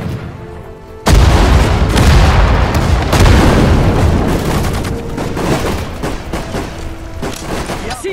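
Dense wartime battle din from the WWII strategy game Sudden Strike 4 at Dunkirk: sustained loud gunfire and booming explosions erupt suddenly after a quiet second, continuing as a thick, rolling barrage with occasional shouted unit commands.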